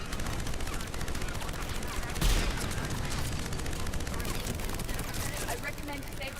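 Turret gunfire from the video game Mass Effect 3, rapid continuous bursts with a louder hit midway, played on Insanity difficulty, with a voice talking over the shooting.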